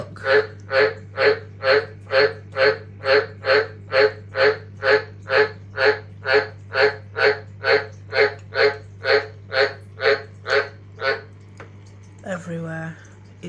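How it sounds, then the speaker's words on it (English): A White's tree frog croaks in a long, even series of about twenty loud, close, rasping calls at a steady rhythm over a low mechanical hum, then stops as a voice briefly speaks. "This little froggy is croaking like a good one."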